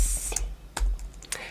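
A few scattered computer keyboard key clicks come from typing a command into a terminal, with sparse, irregular taps and faint background hiss.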